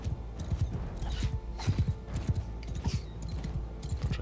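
A horse gallops in the medieval battle game Mount & Blade II: Bannerlord, a steady run of rapid hoofbeats with faint battle noise and occasional creaks behind it.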